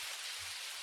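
Steady rain falling in the driving game Jalopy, a continuous dense hiss with a low rumble beneath, close and even throughout with no voices.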